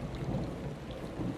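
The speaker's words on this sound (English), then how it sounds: "It's raining fucking hard." Heavy rain and rolling thunder in Call of Duty Modern Warfare II, a continuous roar of downpour over a deep low rumble, steady and enveloping with no voices.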